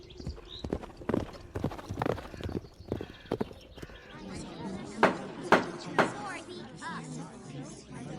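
Horse hooves clip-clopping in an uneven walking rhythm, close and fairly loud, with a brief whinny-like sound and someone narrating over part of it.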